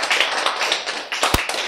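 Clapping breaks out in a lecture hall, a short burst of dense applause with one sharp, loud clap standing out near the end.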